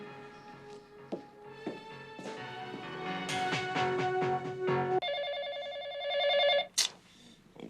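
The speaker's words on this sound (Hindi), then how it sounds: "फोन तो उठा लो।" A telephone rings with repeating electronic tones that shift pitch partway through, steady and moderately loud over faint background, with no talking.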